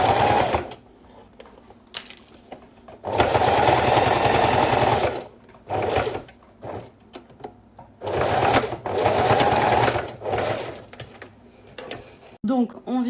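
A sewing machine stitches fabric for a school pencil case in several loud, rapid bursts separated by pauses, with someone talking quietly during the breaks.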